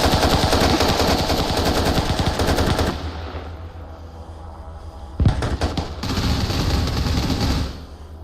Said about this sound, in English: What the fuck is Whiskey firing in there, bro? Really? Fire rate was insane. It's just M16 carbine.